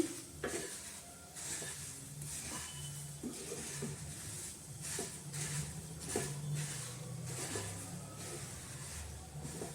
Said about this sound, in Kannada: ಈ ರೀತಿ ಹುರ್ಕೊಳ್ತೀನಿ ಸ್ವಲ್ಪ ಗರಂ ಗರಂ ಅನ್ನೋ ತನಕ